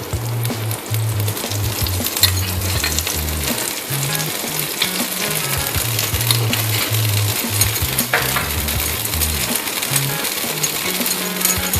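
Masala dosa frying on an oiled griddle, a close, steady sizzle and crackle running throughout, with a low rhythmic hum underneath and no talking.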